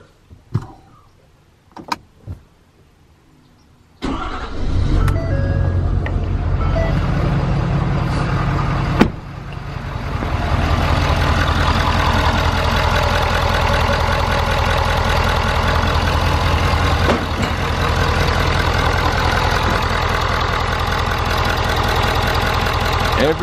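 A Ford 6.7 Powerstroke diesel cranks and fires after a few seconds of quiet clicks, then settles into a loud, steady idle with a rough rumble that continues to the end.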